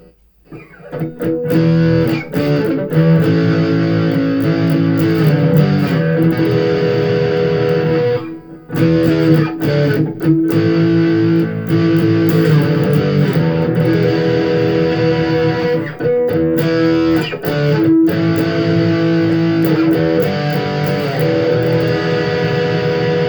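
An Epiphone Les Paul Traditional Pro electric guitar plays through distortion, loud sustained chords and riffs ringing out with a few brief pauses and sharp string attacks.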